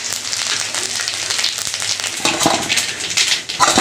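Bay leaf, dried chilli and ginger tempering crackle in hot oil for khichuri, a steady close hiss of sizzling that swells louder with sharper pops in the last second or so.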